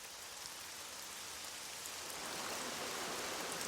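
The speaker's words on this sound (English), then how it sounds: "It's been raining for days." Heavy tropical storm rain pours steadily on Rurutu, a South Pacific island, a dense, even hiss of drops on surfaces that builds slightly louder toward the end, with no voices.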